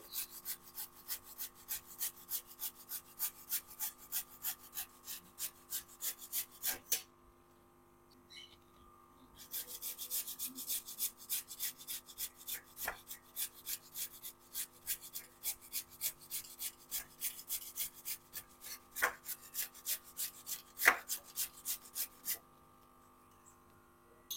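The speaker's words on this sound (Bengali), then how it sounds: "পেঁপেটা আমি গ্রেট করে নেব" Papaya being grated by hand on a kitchen grater, a steady rhythmic rasping of quick repeated strokes with two short pauses, close and fairly quiet with no talk.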